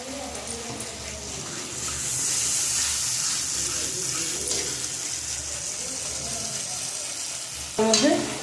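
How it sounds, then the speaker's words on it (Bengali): Spinach sizzles and fries in hot oil with spices in a pan for a Bengali egg-and-spinach dish, a constant bright crackle with faint stirring, ending in a louder scrape or clatter near the close. "বেশ করে পালং শাকটা দিয়েছি গরমের মধ্যে। এখন আরও বেশ কিছুক্ষণ আমি সুন্দর করে কষাবো"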